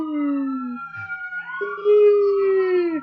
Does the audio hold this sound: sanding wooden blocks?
no